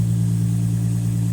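Infiniti G35 engine after a spark plug replacement, running at a steady close idle with a loud, even low hum and no voices, cutting off abruptly at the end.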